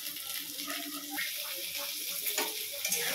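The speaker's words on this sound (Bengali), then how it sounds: "তো ভাজাটা হতে থাকুক" Okra and potato fry in oil in a pan with a steady broadband sizzle, joined by intermittent clinks and stirring scrapes, close and fairly loud throughout.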